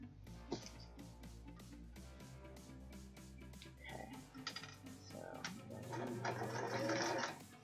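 A sewing machine runs steadily, stitching a straight reinforced seam down a fabric yard banner, with a rapid rhythmic needle chatter that speeds up and grows a little louder toward the end; the machine is heard alone.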